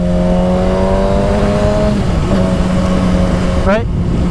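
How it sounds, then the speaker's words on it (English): A 2006 Suzuki GSX-R 600 K6 sport bike engine held at a steady high idle nearby, then a sharp quick blip of the throttle near the end. "You will never hear that sound again on a brand new bike."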